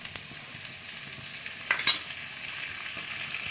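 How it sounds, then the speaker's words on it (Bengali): Vegetables with salt being stirred and fried in a wok for a vegetarian shukto, a steady quiet sizzle with two brief scraping stirs near the middle. "লবণ দিয়ে একটু নেড়ে নেব, কষিয়ে নেব।"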